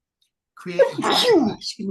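A single sharp sneeze bursts out in the middle of someone speaking, loud and close, with talking on either side of it.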